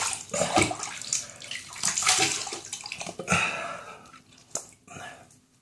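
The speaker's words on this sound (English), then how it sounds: "let me rinse off." Water splashes and runs from a tap as a face is rinsed during a wet shave, close and uneven, with bursts of splashing fading toward the end.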